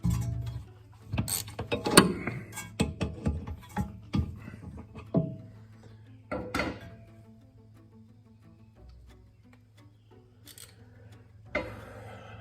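A Snap-on ratchet whose forward-reverse selector is broken, worked in bursts of sharp clicking and mechanical rasping during an import brake job on a Honda Prelude, with a low steady hum underneath and quieter gaps between strokes.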